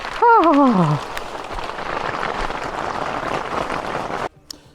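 Rain patters steadily on a nearby surface after a brief voice at the start, then cuts off abruptly, at a lakeside fishing trip.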